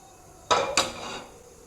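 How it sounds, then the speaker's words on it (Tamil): Cooking pan being set down on a kitchen stove before tempering spices, two quick metallic clanks half a second apart with a brief ringing decay, close and alone. "தாளிக்கிறதுக்கு ஒரு வானல் எடுத்து வச்சுக்கலாம் வாங்க."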